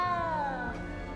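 A cat in the Hogwarts Legacy video game gives one clear, drawn-out meow with a falling pitch, close and fairly loud with no talk over it.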